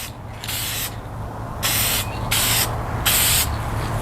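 Three short bursts of aerosol spray as a light coat of vinyl paint goes onto an inflatable Seahawk 4 boat, each hiss loud and close with brief pauses between, over a low steady background hum.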